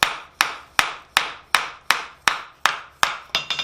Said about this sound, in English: You may have to hammer this around some on the back side, and some back face blows